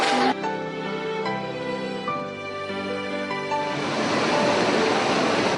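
A 70-metre-wide river rushes steadily with a dense, even roar of flowing water, with faint tonal sounds over it early on.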